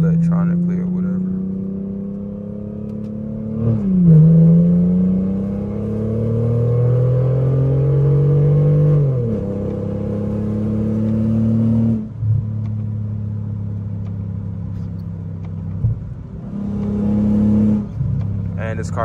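A Mercedes W210 sedan engine, heard from inside the moving car, climbs steadily in pitch through each gear, dips sharply at every shift, then winds up again as the car keeps accelerating.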